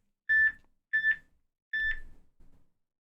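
A phone's alert goes off in three sharp, loud electronic beep bursts spaced about a second apart, followed by a softer trailing blip.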